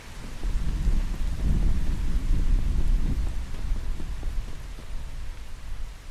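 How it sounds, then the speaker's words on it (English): Thunder rolls in the survival video game Once Human. A loud, deep rumble swells and fades over a steady wash of rain, with no talking. "that was a really good thunder sound"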